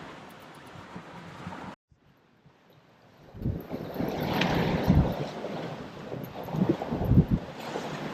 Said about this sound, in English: We're going too fast and slamming as we came down the waves.